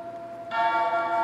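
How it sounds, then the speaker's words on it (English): A bell rings in the Metallica Revenge iPhone game, a bright sustained metallic tone that strikes abruptly and keeps ringing over a faint background hum, with no talking. "Ringing my damn bell."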